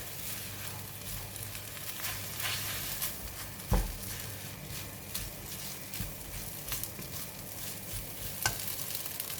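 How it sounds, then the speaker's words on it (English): Rice being stirred in a hot oiled frying pan for crispy anchovy fried rice, giving a steady sizzle with scraping stirs and a sharper clack near the middle, close and alone with no talk. "And now I'm putting in the rice. Give it a stir."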